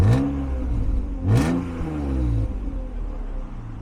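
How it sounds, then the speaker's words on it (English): A 1999 BMW E36 M3 5-speed convertible cranks and fires up, then gives two sharp revs that fall back to a smooth, steady idle, close and loud. "it's a beautiful and smooth running engine, and we will also get a little bit of exhaust"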